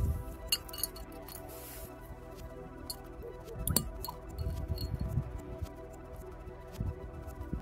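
Light glass clinks and small taps as a gasoline-filled glass light bulb is lowered into a glass of water, scattered soft clicks and knocks close by with quiet handling noise, no talk.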